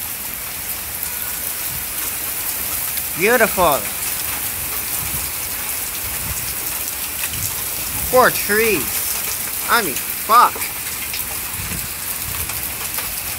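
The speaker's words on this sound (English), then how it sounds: "And some much needed rain." Steady rain pours down during a thunderstorm with tornado weather, a constant hiss throughout, while someone speaks a few short phrases over it now and then.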